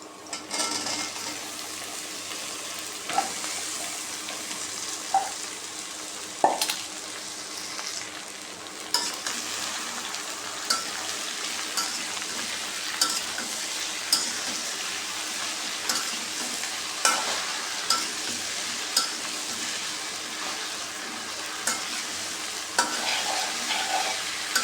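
Onion and okra fry in oil in a pan with a constant gentle sizzle, punctuated every second or two by clacking stirs and scrapes of a utensil against the pan, close and moderately quiet, with no voices.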